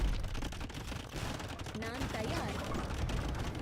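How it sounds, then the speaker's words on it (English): Cannon fire in the middle of an Age of Empires battle, heard as a dense, continuous clatter of gunfire and impacts with no single standout blast, steady and fairly loud throughout. "And nice shot on the cannon."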